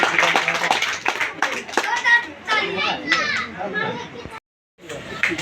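Loud clapping from a gathering at a party general secretary's residential office, dense hand claps mixed with children's voices and chatter, continuing steadily with a brief silent gap near the end.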